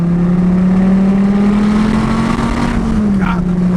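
A 2014 Dodge Viper TA accelerating, its engine holding a loud steady drone that rises gently in pitch, close and continuous with no pauses.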